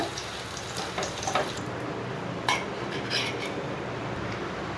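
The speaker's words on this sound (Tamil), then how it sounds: "நம்ம இந்த முட்டையை இதில் ஊற்றிக்கலாம்" Beaten egg poured onto a hot tawa for an omelette, giving a faint steady sizzle with a few light clinks of utensils.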